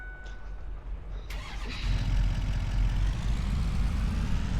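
A farm truck's engine cranks and catches in Farming Simulator on the Nebraska map, then settles into a steady, loud low rumble that fills the rest of the moment.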